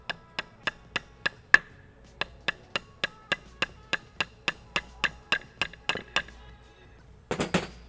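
Brake pad pin on a big brake kit tapped home with a hammer, a steady series of about twenty sharp metallic taps close by at an even rhythm, ending in a short clatter.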